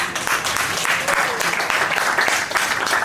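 A live audience at a business talk event breaks into dense, steady applause, loud and continuous throughout with no break.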